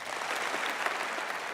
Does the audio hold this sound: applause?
yes